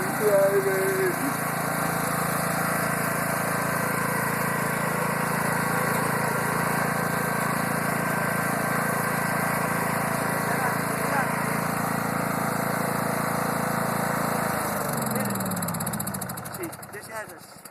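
Grandpa's small tractor drives along with a steady, close engine drone that holds at one pitch, then winds down and sputters near the end.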